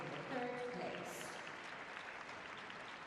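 Crowd applause fills the arena at the Grand Prix Espoo 2023 pairs free skating, a steady, soft wash of clapping that continues throughout, with a voice briefly heard over it near the start.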